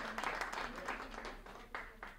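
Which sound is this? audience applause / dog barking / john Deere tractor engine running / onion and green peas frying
audience applause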